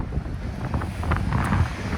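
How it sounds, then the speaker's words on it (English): Wind buffeting a microphone outdoors, a steady low rumbling roar with no voices over it. "sorry about the wind"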